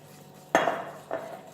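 Pancake batter with oil and milk being mixed in a bowl: two sharp clinks of a utensil against the bowl, about half a second apart, close by in a quiet room.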